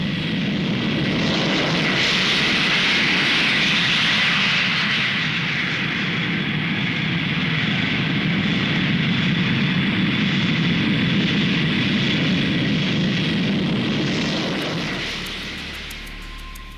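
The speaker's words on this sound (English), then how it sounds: "The red, white and blue of Britain's supersonic jet giant was a proud sight as she made her 22-minute maiden flight" The British Concorde 002 supersonic airliner roars loudly and continuously as it takes off on its maiden flight, a heavy sustained jet rumble and whine that fades slightly at the end.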